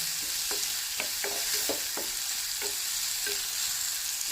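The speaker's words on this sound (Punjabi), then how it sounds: "2 ਤੋਂ 3 ਮਿੰਟ ਇਹਨਾਂ ਨੂੰ ਪਕਾ ਲੈਣਾ ਹੈ" Potatoes for achari aloo cooking in a pan, a soft steady sizzle broken by a series of irregular stirring scrapes and knocks, close and fairly quiet with no talk.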